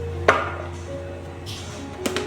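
A kitchen knife chops garlic on a board, giving a sharp thud early, a few softer cuts, then a quick double chop near the end, close and clear in a quiet room.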